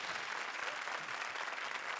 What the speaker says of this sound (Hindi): आ जाइए जरा ताली बजाइए